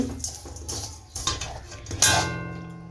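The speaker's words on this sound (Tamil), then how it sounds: "இன்னும் நல்லா கரைஞ்சி தேன் கலரில் வரணும் அதுவரை நல்லா இப்படி கிண்டிக்கிட்டே இருப்போம்" Sugar melting into caramel for Tirunelveli halwa is stirred in a pan, the spoon scraping and clinking against the metal in loud, irregular strokes with a sharp knock near the end.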